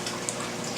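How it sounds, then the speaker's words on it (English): Water pours into a plant tray as a brief, steady splashing hiss with no voices. "Up to a point, you can add the water."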